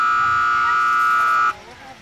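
Loud electronic buzzer of a dog agility course timer going off at an outdoor trial in the rain, a sustained steady tone lasting about one and a half seconds before cutting off abruptly.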